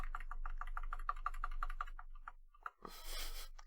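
Computer keyboard typing while setting up a cyber security lab, a quick steady run of keystrokes for about two seconds, followed by a louder burst of broadband noise near the end.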